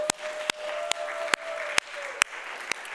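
A church congregation applauds at a worship service, a loose patter of hands with several sharper individual claps standing out at irregular intervals over a few seconds.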